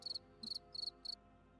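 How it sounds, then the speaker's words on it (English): Four short, evenly spaced bursts of cricket chirping, each a quick rapid trill, quiet against a faint background hum. "I heard crickets one time."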